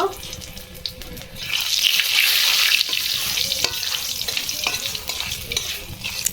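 Bay leaf, five-spice tempering and dry red chillies crackle and sizzle in hot oil, the frying swelling louder midway amid scattered stirring clinks and faint watery sounds, with no voices over it.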